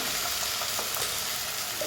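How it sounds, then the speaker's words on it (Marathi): Tomato puree sautés in hot oil in a pan with onion, a dense, loud, continuous sizzle with faint stirring scrapes. "टोमॅटोची प्युरी पण छान आपल्याला परतून घ्यायची आहे तेलामध्ये"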